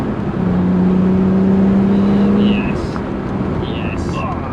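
A car with an SMG gearbox accelerating hard in first gear on a rough road, engine note rising steadily as it revs out, then easing off; a voice speaks briefly over the engine.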